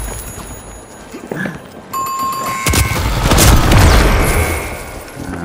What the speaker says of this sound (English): That grenade real close.